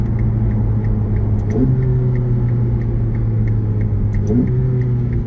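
A 2022 Ferrari F8 Tributo drives past steadily with a humming engine note that drops in pitch twice as it shifts up through the gears, clearly audible with no talking.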